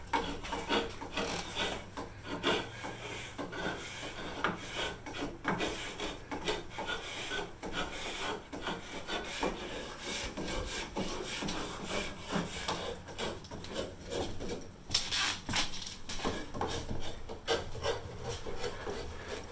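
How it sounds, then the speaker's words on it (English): Paint being scraped off the wooden meeting rail of an upper window sash in an attic workshop of a century-old blockhouse, heard as continuous rhythmic rasping and rubbing strokes up close. "scraping the paint off of the bottom surface of the meeting rail of an upper sash"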